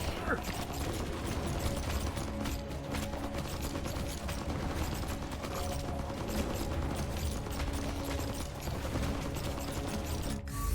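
Rapid mechanical thumping and clattering fire from a grenade launcher in the zombie survival game FatalZone, steady and dense for the whole stretch, with a voice faintly mixed in.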